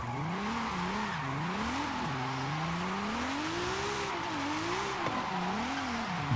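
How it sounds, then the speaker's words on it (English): A drift car in the Forza racing game revs hard throughout, its engine pitch rising and falling steadily as the tires slide and hiss under a constant loud roar, with no talking. "this is a really easy car to drive. Super, super easy to slide as well"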